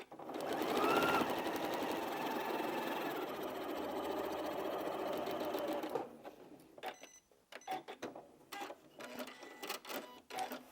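A sewing machine stitches quilting fabric for half-square triangles in one steady, loud mechanical whir for several seconds, then stops and starts in short, uneven bursts.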